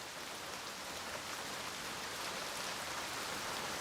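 Steady rain falls in the forest at Odaigahara, an even, soft hiss of countless drops with no pauses or other sounds.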